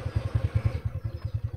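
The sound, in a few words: scooter engine running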